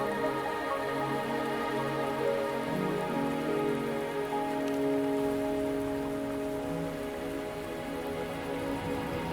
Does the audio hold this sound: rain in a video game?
yes